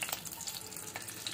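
Fresh homemade ghee heating in a pan for carrot halwa, a steady low sizzle and faint crackle with some light stirring, close and fairly quiet, no talking.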